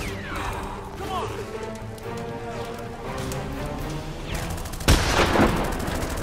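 Gunfire in a Minecraft Fallout roleplay game, with shots cracking steadily through the clip and a sharp, louder burst near the end, mixed with game ambience and voices talking over it.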